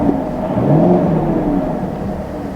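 A 2019 Chevy Camaro SS V8 engine revs with a deep, loud, close rumble that swells and then settles into a steady drone, with no talking.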